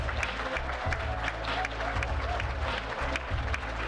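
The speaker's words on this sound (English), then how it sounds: "One round of applause for Keyblunt for our eliminated Omegathon." An audience in a theater at a gaming convention gives a round of applause, dense steady clapping filling the room with a low rumbling hum underneath, continuous for several seconds.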